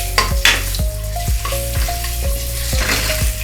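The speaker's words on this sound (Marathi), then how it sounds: "अंडी मस्त फ्राय करून घ्यायचे" Boiled eggs fry with spicy masala, chili powder and turmeric in a pan for egg curry, a loud close sizzle punctuated by repeated clinks and scrapes of a spatula against the metal.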